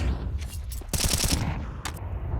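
MAC-10 submachine gun fire during a professional Counter-Strike match at IEM Sydney 2023: a rapid burst of rattling shots over a dense background of game noise.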